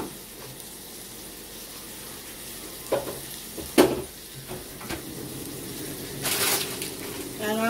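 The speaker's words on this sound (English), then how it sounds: "And I'll cook in there in the butter with the onions." Onions and garlic sizzle in melted butter in a pan, a steady soft crackle broken by a few sharp knocks and scrapes of a utensil against the pan.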